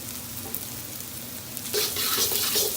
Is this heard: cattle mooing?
no